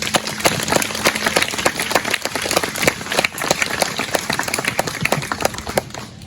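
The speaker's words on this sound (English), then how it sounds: "Clap for that one." Dense applause from an audience at a community announcement event, a steady wash of many hands clapping close and loud for several seconds.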